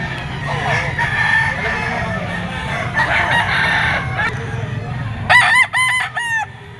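Gamecock roosters at a Philippine fowl sale; a lemon sweater stag crows loudly near the end, several stacked harmonic crows over steady background clucking and farmyard bustle, with faint talk in the distance.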